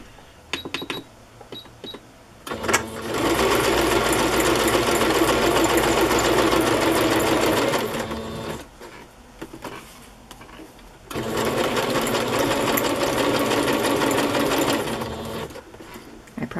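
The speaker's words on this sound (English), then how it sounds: "I'm just going to sew this to the side of the tag." A sewing machine stitches through a paper tag in two long, close bursts of rapid mechanical clatter, separated by a brief pause with small handling noises.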